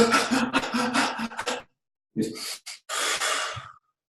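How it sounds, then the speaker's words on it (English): Controlled exhale through pursed lips, a breathy airy rush in two bursts separated by a short pause, close and fairly loud with no talking. "I'll exhale through my mouth, but I'll purse my lips to control the exhale"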